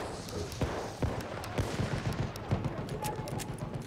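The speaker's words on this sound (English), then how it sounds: "Who the fuck is shooting?" Gunfire in the video game Battlefield 1, a burst of rapid overlapping shots and sharp cracks at moderate distance, repeating through the moment against a busy battle background.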